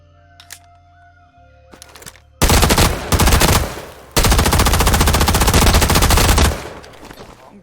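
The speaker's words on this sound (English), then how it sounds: "Hắn đang bắn vào chính những người anh em của mình." Automatic rifle fire from the Vietnam War video game Rising Storm 2: Vietnam, a few scattered shots followed by loud, sustained close bursts of rapid fire with a brief gap.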